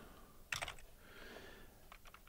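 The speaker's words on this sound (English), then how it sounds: "Let's type them in the correct position." Brief typing on a computer keyboard: a quick cluster of key clicks, a pause, then a few more taps, quiet and close with no voices.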